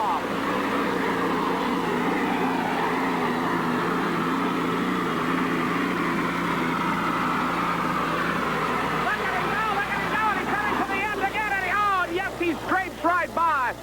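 A 9,000-pound super stock pulling tractor at an outdoor pull in Atco, New Jersey roars steadily, its engine pitch shifting and rising toward the end, loud and close under a commentator's voice.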